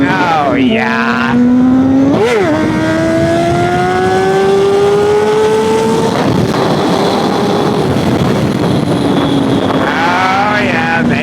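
Inline-four sport motorcycle being ridden, its engine note rising and falling through gear changes with steady revving over continuous wind roar, close and loud, with a voice speaking over part of it.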